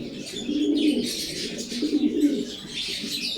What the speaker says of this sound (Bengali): এগুলা পেডিগ্রি সহ কবুতর, এগুলো জোড়া করলাম।